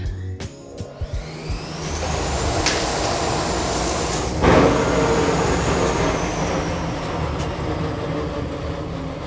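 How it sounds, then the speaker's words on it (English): A newly installed workshop dust collection system starts up and runs with a loud, steady roaring whoosh, preceded by a few clunks and knocks and broken by a brief louder surge midway. "we finally got dust collection installed."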